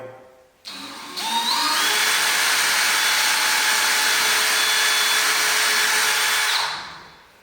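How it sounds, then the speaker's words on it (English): A power drill whirs steadily for several seconds as it bores a hole for a pocket door lock, starting up with a rising whine and then running at constant speed before winding down, close and loud with no talking. "Then we're going to drill one on the other side"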